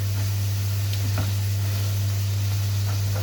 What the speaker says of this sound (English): Let me just stir this for a minute